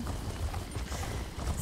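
Horse hooves clip-clopping as a character rides in The Elder Scrolls Online, a soft steady trotting rhythm at low volume with no talk over it.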